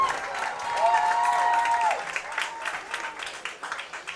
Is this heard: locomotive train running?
no